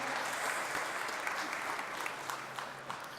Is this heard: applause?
yes